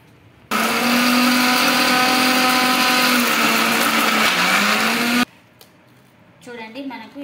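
A kitchen mixer grinder grinds fenugreek seeds with newspaper pieces, a loud whining motor roar that starts abruptly and runs about five seconds before cutting off, followed by a quiet room and a voice.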